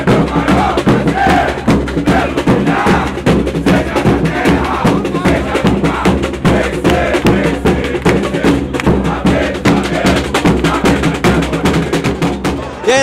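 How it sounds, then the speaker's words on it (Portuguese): Excited Flamengo football fans in the stands chant and cheer loudly at close range, with rhythmic pounding beats and a dense crowd roar that carries on without a break. "Estamos aqui no meio da torcida do Flamengo e o pessoal tá empolgado"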